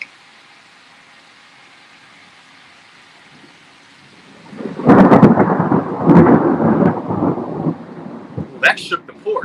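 Thunder during a thunderstorm: after several seconds of quiet rain hiss, a sudden close crack breaks into a long heavy rumble that rolls on and slowly fades.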